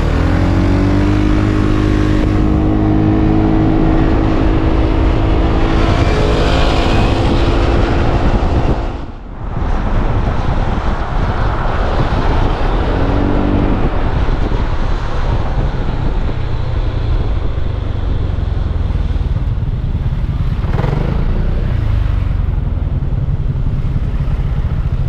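A Voge SR3 or SR4 maxi-scooter pulls away and rides off, its engine droning loud and steady up close with a rising whine as it accelerates, joined by rushing wind and a brief dip in level partway through.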